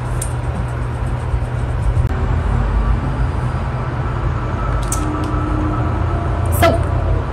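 Steady street traffic in New York drifts in through an open window, a constant loud roadway rumble with a few brief higher-pitched hisses and clatters, and no voices.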